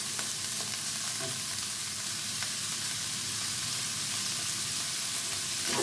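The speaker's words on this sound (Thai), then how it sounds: "ผัดหมูให้สุกก่อน" Pork stir-fries in a hot pan, a steady soft sizzle with faint scraping stirs, fairly quiet and close, without talk.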